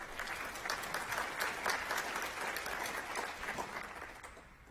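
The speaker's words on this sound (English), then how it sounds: "Please give yourselves a round of applause for that." Attendees at a national autism conference give a round of applause, a dense even clatter of many hands at moderate volume that tapers off in the final moment.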